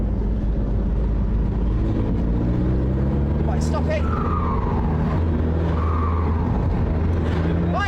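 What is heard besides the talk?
diesel car engine noise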